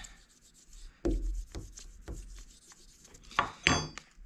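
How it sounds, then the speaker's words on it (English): A spoon rubs over folded paper laid on an inked print block, giving soft scraping strokes in short bursts with a few sharper swipes near the end, close and quiet. "fold that over and rub it with the spoon so that we get that section covered"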